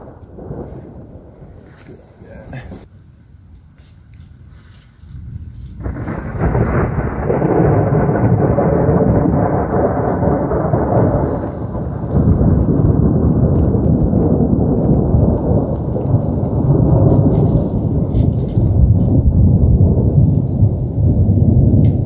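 Heavy rain hisses steadily on a tent while deep thunder rumbles and swells, a quieter start giving way to a loud, sustained storm.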